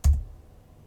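A single computer keyboard key, Enter, pressed once in a command-line setup for Angular: one short close click with a dull thump, then quiet room tone.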